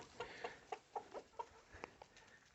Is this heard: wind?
no